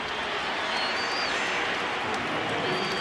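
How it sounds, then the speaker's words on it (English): A packed stadium crowd boos at a 2008 Packers vs Seahawks football game, a dense, steady roar of many voices that stays loud and unbroken throughout. "Crowd still booing over that one"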